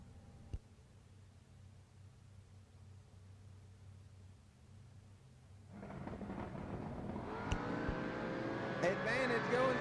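A nitrous-fed Lumina and a supercharged S10 drag racing at WWT Raceway: a quiet rumbling lull, then the engines erupt into a loud, rising roar that swells and holds to the end.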